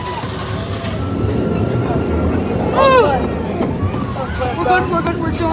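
An amusement park ride runs with a loud rumbling, clattering roar, a brief squeal of wheels or metal partway through, and a babble of voices mixed in.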